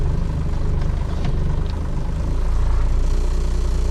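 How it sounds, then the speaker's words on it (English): A Cummins diesel truck idles rough and very low, its deep, uneven rumble steady and close for several seconds with a slight lurching pulse and no voices. "This idle is so low,"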